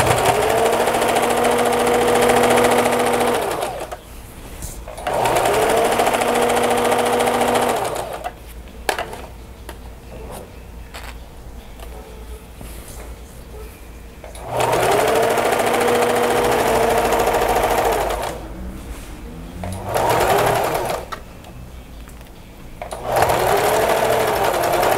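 A domestic sewing machine stitches fabric in several sustained runs of steady mechanical whirring, with quieter pauses between them.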